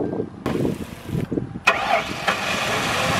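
A car engine, run with cooking oil in place of engine oil and leaking fuel, cranks and catches with a sharp start, then rumbles at a rough idle close by.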